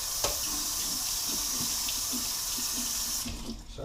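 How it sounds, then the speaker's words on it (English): A kitchen tap runs steadily while a box grater and knife are rinsed under it, a close, continuous water rush with light clinks against metal, then cutting off near the end. "So I'm just rinsing off the box grater, wiping off my knife."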